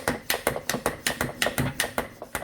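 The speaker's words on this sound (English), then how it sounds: "put it in right here and just pump it up really good" A hand bike pump inflates a Crazy Kart tire, giving repeated rhythmic strokes, each a sharp hissing push. About a dozen evenly spaced pumps come close and clear, with no talk.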